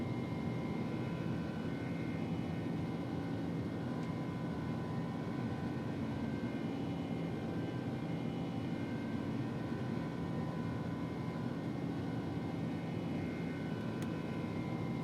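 Airbus A300 freighter climbing just after takeoff as its landing gear retracts, heard as a steady, loud engine and airflow roar with a faint whine, unbroken throughout with no voices.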